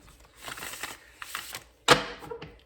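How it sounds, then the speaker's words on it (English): Tarot cards being shuffled by hand in short bursts of quick, close riffling and flapping, ending with one sharp snap of the deck. "Let's shuffle this one more time,"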